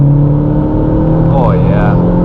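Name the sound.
2011 MazdaSpeed3 engine accelerating in third gear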